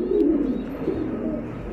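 A racing pigeon at a pigeon farm gives a low, rolling coo that sounds close and steady for a couple of seconds, with no talk over it.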